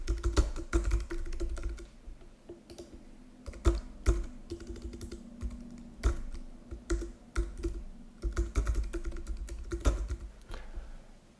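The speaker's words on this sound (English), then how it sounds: "The user will type a serial number received during the purchase process." Someone types a serial number on a computer keyboard, producing a steady, close patter of key clicks that continues throughout without talk.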